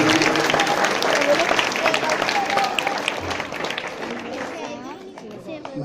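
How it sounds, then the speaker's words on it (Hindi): Crowd applause rises at a public gathering, loud at first and then thinning out, mixed with chatter and a voice speaking over it. "तालियां"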